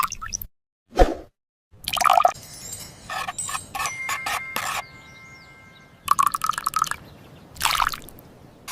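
Tomato pulp strained in a tiny toy kitchen, scattered close, quiet drips and plops with small metallic clinks of utensils, separated by brief silences and no talk.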